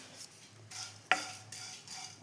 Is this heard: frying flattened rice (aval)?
yes